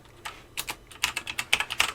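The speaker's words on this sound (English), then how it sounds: "All you need to do to change the name of the file is click just here and then just type now what you want to name it" Rapid, uneven keystrokes on a computer keyboard as a short file name is typed, a quick run of close, crisp clicks with no talking.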